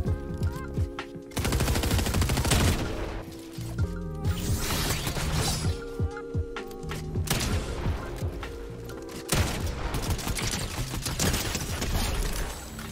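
Rapid bursts of gunfire in a Fortnite Chapter 4 Season 2 Arena match, with a pump shotgun in use. Repeated loud shots and automatic volleys run almost without pause, close and dominant, with no talk over them.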